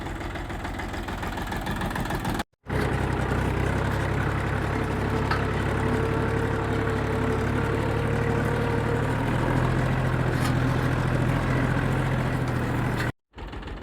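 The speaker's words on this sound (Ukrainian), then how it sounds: "бачимо, культиватор працює, культивірує" A motor cultivator hitched to a mini tractor works a field, its engine holding a steady, loud mid-low drone that breaks off briefly twice, with no talk over it.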